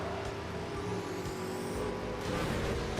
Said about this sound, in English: I hear you using the slipstream turbo there